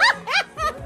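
A person's voice imitates a growl in three short, close, loud bursts, each rising and falling in pitch, with a raspy, bark-like edge.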